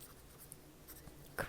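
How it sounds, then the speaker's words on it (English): Pencil scratching on paper in a soft, quiet setting, faint strokes with a slightly louder scratch near the end. "Let me just write that down."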